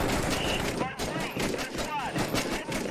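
Gunfire from the combat video game Six Days in Fallujah, with dense bursts of shots and crackling fire rising and falling throughout, mixed with radio chatter and voices talking over the shooting.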